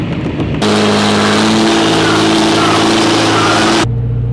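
A Cummins diesel truck engine revs loud and close, a steady broad roar with low harmonic drone held for about three seconds before dropping back to a lower idle.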